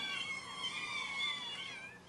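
A cat gives one drawn-out, whining meow at close range, clear and alone for about two seconds, rising and falling in pitch.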